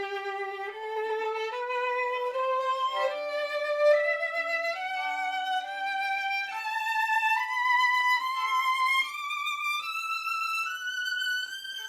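A violin climbs a long ascending scale played with fast, light bow strokes and a quick, narrow motor vibrato, each note bright and shimmering, steady and fairly loud with no talking.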